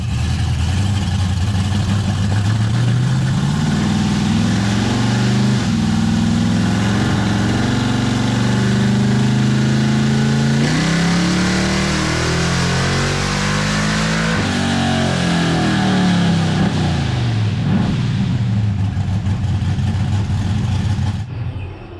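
Ford Mustang engine revving on a dyno, loud and continuous, with pitch sweeping up and down through repeated rev cycles over a sustained throbbing exhaust note.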